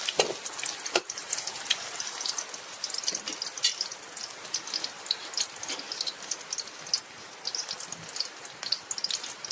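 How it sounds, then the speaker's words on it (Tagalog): Garlic fries in a little cooking oil in a home kitchen pan, giving off a steady light sizzle with crackling pops and an occasional stir, and no voices over it. "Naglagay tayo ng kunting mantika guys. Tapos, sinunod natin ang bawang."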